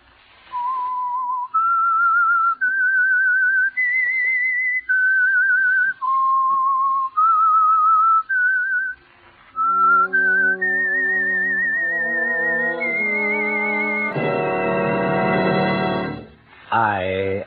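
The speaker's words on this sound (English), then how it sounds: "That whistle is your signal for the Signal Oil Program" The theme tune of the 1946 Signal Oil radio drama The Whistler is whistled as a clear, loud melody of held notes, then gives way to a swelling band of instruments playing full chords.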